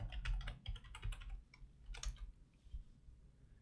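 Keys clatter on a computer keyboard as a password is typed, a quick burst of close, crisp clicks that thins out to a few scattered taps toward the end, with no voices.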